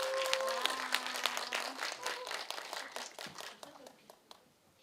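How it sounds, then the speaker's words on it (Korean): Indoor audience clapping for a researcher of housing rights for disabled people at a screening event, a dense patter of many hands that tapers off, with a voice talking briefly over the start. "박수로 초대하도록 하겠습니다"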